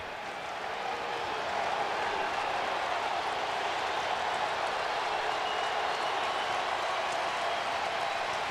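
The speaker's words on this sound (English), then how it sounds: "And the crowd responds." Steady roar of a stadium crowd at a 2005 Alabama vs. Tennessee college football game, a dense, sustained wash of cheering heard from a distance with no distinct voices.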